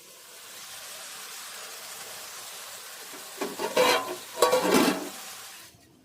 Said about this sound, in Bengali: মাংস হচ্ছে দেখাচ্ছি।